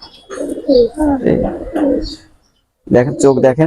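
A female Aliwala 35 high-flying pigeon coos up close in low, soft, rolling phrases that are mixed in with someone talking nearby.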